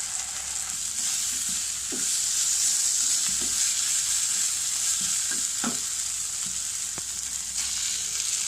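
Pre-fried chicken added to vegetables in a frying pan for chow mein, a steady loud sizzle with occasional scraping and stirring clatters, close and without talk.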